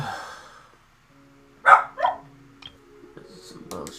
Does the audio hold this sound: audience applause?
no